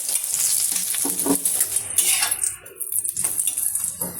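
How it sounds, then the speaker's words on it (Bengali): A paratha fries in ghee in a pan, giving a steady, close sizzle with occasional scraping and clinking of a utensil, continuous through the clip and briefly dipping toward the end. "এই ভালো করে আমি কিন্তু ভেজে নেব।"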